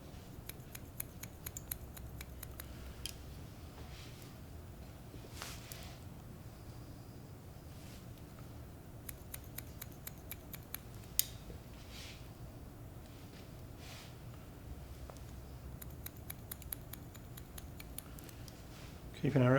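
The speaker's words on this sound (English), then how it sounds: "As you can see, scissors come right over the top." Scissors snip hair during a men's haircut, with quick crisp cuts in repeated bursts and short pauses between them over a steady low room hum.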